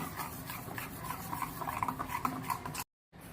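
A spoon stirs sugar into thick mango pulp in a bowl, with soft close rubbing and scraping in a quick, uneven rhythm, then a short break of silence.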